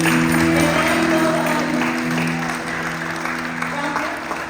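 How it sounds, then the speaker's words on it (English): An audience applauds for the Prophet at a church gathering, a sustained wash of clapping from many hands that gradually fades, with a sustained musical tone beneath. "can we give the best round of applause?"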